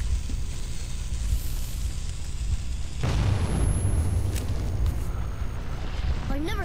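A frag grenade goes off in Metro 2033, a loud rumbling blast rising out of a constant dense roar, with someone talking over it.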